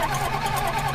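John Deere 4230 tractor engine starting, a rough churning crank catching into a knocking rumble, loud and close over one second with no speech.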